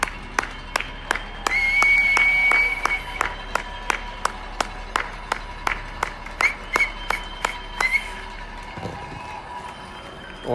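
A person claps in a quick, steady rhythm for about ten seconds and whistles at the same time, with short bright whistle notes coming and going over the nearby claps.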